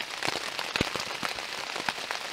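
Rain patters densely on a tent in a forest, with irregular close drops tapping sharply and loudly on the fabric over a constant hiss of rainfall.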